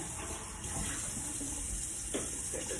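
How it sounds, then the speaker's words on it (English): Warm water runs steadily from a kitchen tap, a continuous hiss-like flow that stays fairly even and close throughout, with no voices. "So I'm gonna turn my tap to warm and get a nice warm water, okay?"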